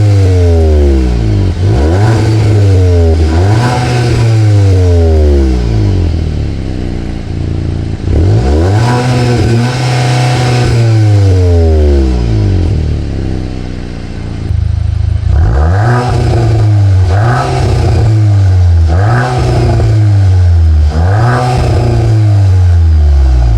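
A 2025 Volkswagen Golf R Black Edition with a titanium Akrapovic exhaust revs hard several times, its exhaust roaring up and crackling back down in repeated loud bursts, with a brief lull between.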